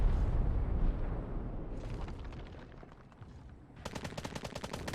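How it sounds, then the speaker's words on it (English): Artillery fire in the war game Call to Arms, in an urban battle: heavy rumbling blasts open, followed by a rapid crackling burst of gunfire near the end. "And under artillery fire."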